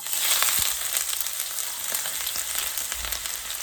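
Onions frying in oil in a pan for meat pie stuffing, giving a steady close sizzle and crackle with faint occasional stirring knocks, no voices.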